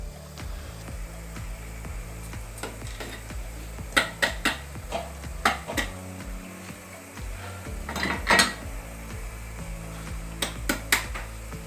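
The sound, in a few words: steamed idiyappam being transferred into a dish, utensils clinking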